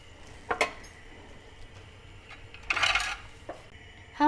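A wok and metal utensils clanking while Indo-Chinese mixed vegetable noodles are cooked in oil with garlic, a few sharp clinks and a brief scraping rattle, close by with no talk.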